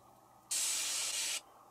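A reversed cymbal swells out of near silence into a bright, steady wash of hiss, then cuts off abruptly after about a second, used as a transition effect in a music production.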